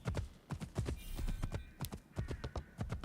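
Horse hooves clip-clop in the video game Assassin's Creed Shadows: a quick, steady galloping rhythm of sharp, close hoof strikes, with no voices over them.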